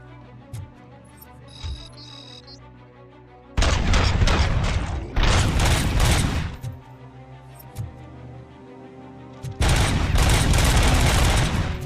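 Bursts of heavy automatic gunfire from the video game Robocop: Rogue City, loud and dense, in three long volleys with quieter mechanical clanks and thuds between them.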